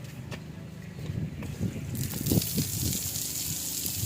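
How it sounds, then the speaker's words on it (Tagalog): Water sprays from a homemade shower head built from tubular and GI pipe. After a few clunks and gurgles, it bursts into a loud, steady hissing spray that lasts to the end. "Testing natin kung gaano kalakas yung tubig."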